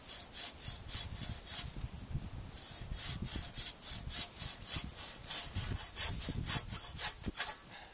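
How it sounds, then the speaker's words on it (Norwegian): A hand saw cuts through a small tree branch outdoors, producing steady rhythmic back-and-forth rasping strokes, close and fairly quiet, with no talk. "Tar vi saga her"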